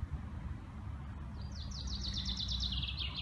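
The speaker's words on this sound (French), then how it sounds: "le chant des oiseaux." Birdsong in a tree-filled park: a faint high chirping phrase of rapid repeated notes rises over a low, steady background rumble, with no voices.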